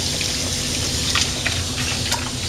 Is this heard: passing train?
no